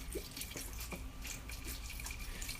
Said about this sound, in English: We're gonna add a little bit of Fiji water.